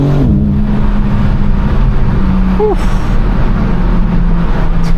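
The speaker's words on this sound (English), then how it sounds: "Y'all can hear those burbles too. That sounds crazy on the downshifts." Car exhaust burbling on downshifts, with a loud engine drone whose pitch drops and shifts as gears change, plus brief crackling pops, close and continuous, with occasional voice in the cabin.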